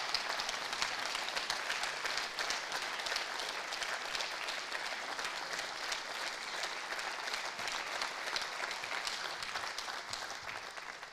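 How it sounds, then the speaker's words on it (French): Sustained applause from a conference audience, steady and dense for the whole stretch, with no voices over it. "Vous pouvez l'applaudir"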